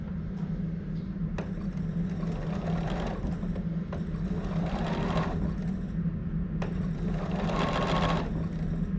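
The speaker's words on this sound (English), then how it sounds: "Sewing machines usually sound pretty bad on camera." Sewing machine stitching a bunny tail onto a quilt, a steady rapid mechanical whir running throughout, with brief louder rattling bursts of stitching, close and alone without speech.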